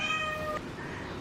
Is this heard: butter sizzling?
no